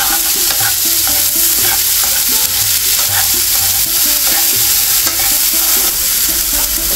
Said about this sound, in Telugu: ఆయిల్ వేడైపోయిందండి. కొద్దిగా ఆవాలు వేసుకుందాం. కొద్దిగా సాయమినపప్పు, కొద్దిగా జీలకర్ర.